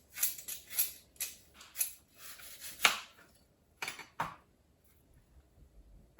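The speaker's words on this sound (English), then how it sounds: "This is known as a vegetable peeler, but of course we can peel apples with it too." A vegetable peeler scrapes the skin off apples in quick, crisp strokes, close and fairly quiet, with short pauses between passes.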